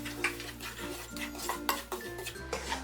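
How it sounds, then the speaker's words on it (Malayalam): A spoon scrapes and clinks against a pan as roasted semolina (rava) is stirred over a low flame for rava kesari, a steady close run of soft metallic scraping with no voices. "ഇനി ഈ റവ ഇതിലിട്ട് നല്ലതുപോലെ ഇതൊന്ന് റോസ്റ്റ് ചെയ്തെടുക്കാം."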